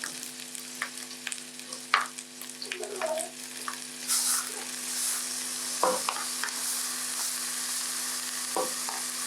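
Onions and greens fry quietly in a pan, giving a soft, steady sizzle broken by scattered stirring knocks and scrapes, with no one talking.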